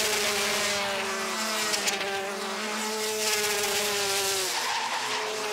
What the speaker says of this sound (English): Listen to the amazing sound these 125 Rotax engines make.